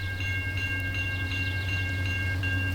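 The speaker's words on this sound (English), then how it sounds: "Another CN train." A CN freight train rolls past a level crossing in a train video game, a steady low rumble of cars running under repeated crossing-bell-like tones that ring evenly throughout.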